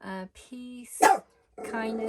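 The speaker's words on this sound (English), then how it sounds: "Sorry about the dogs." Dogs bark in short sharp bursts close by indoors, mixed with someone talking.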